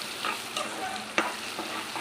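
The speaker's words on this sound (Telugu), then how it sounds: "ఇలా ఫ్రై చేసుకోవాలండి." Ginger garlic paste and turmeric fry in a hot pan with a continuous close sizzle, broken by a few sharp spatula scrapes and taps as the mixture is stirred.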